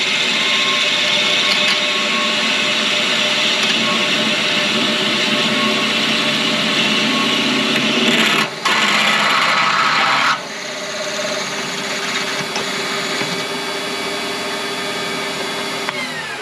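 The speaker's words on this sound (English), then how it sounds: "This is a 12mm drill bit going in some 25 mild steel." A 12mm drill bit bores into 25mm mild steel on a mini lathe at about 950 RPM, a loud, steady whirring grind that cuts out briefly and then continues quieter.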